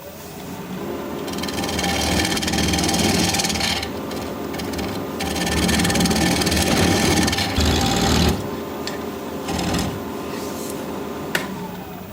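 A swept-back gouge cuts a desert oak bowl spinning on a lathe, producing a continuous scraping, rasping hiss with brief pauses and resumptions, close and fairly loud.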